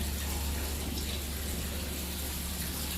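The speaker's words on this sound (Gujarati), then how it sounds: "પાણી અંદરથી કાઢી દેવાનું." Water being pressed and squeezed out of freshly made homemade paneer flows in a steady, continuous watery rush, close by and fairly soft, with no talking.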